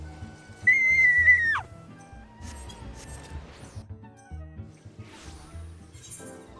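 A person whistles a single sustained note that drops off sharply at the end, near and clear, followed by faint clinks and small background noises.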